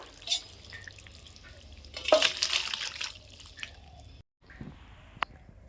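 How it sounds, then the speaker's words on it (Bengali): Rohu fish and cauliflower curry being poured from a pan into a bowl, heard as a brief wet splashing gush midway, with faint drips and small clinks before and after. "মাছের ঝোলটা হয়ে গেছে, এখন কিন্তু গামলার মধ্যে ঢেলে নেব"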